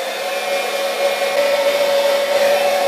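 A heat gun blows close and loud on Worbla thermoplastic, a steady whirring hiss with a constant motor whine that holds without a break.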